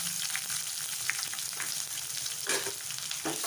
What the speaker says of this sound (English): So as that is spluttering, I'll put in a hand of curry leaves, and then I'll put in this onion that I cut up